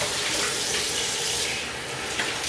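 A tap runs steadily to rinse a safety razor blade, a loud, close, continuous rush of water with no break.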